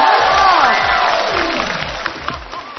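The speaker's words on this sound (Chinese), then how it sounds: "掌声欢迎" Studio audience at a televised talent show breaks into loud cheering and applause, shouts and whoops over clapping, strongest at first then easing slightly, with a few sharp claps near the end.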